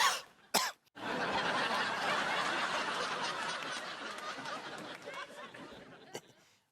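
A man in a Hindi sitcom scene coughs sharply twice near the start, followed by a stretch of muffled, chattering, laughing voices that fade out.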